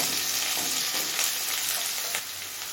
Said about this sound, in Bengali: এবারে সবজিগুলো একটু সিদ্ধ হয়ে আসা পর্যন্ত ভেজে নেব